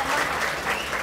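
Audience at an International Women's Day event organised by Maruti Garments breaks into loud applause for a woman guest, a brief burst of many hands clapping together at fairly close range.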